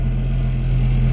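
A car engine idles steadily just after being started, a low, even hum with a constant drone and no revving.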